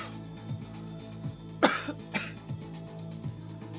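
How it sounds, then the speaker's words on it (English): A single sharp cough, close and clear, followed by a softer second burst, over a steady low background hum. "Only one cough this video, that's pretty good."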